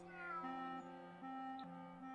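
A cat meows in Grim Fandango, two or three drawn-out, tonal meows standing out clearly over a steady game music bed.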